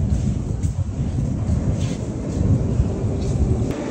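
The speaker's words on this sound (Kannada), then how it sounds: "60 ವರ್ಷದ ಹಿಂದಿನ ಹಳೆ ಮೆಟ್ರೋ ಬಂತು" A roughly 60-year-old metro train in Azerbaijan arrives at a busy station, its steady loud rumble and rolling rattle filling the space continuously with occasional faint squeals, no talk heard.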